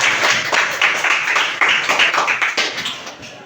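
A classroom group claps hands in brief, uneven applause, a dense patter of sharp slaps lasting a few seconds, close and fairly loud with no talking.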